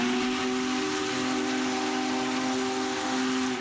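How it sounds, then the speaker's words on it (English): The Union Pacific Big Boy 4014, a giant steam locomotive, sounds its whistle in one loud, sustained chord of several steady tones with hiss underneath, lasting the whole stretch without a break. "The world's largest operating steam locomotive recently rolled into Sacramento on a nationwide tour."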